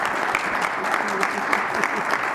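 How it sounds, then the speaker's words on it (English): Sustained audience applause for a discussion panel at a voter rights conversation event, steady dense clapping with no pause across the stretch. "will you all give this panel a round of applause"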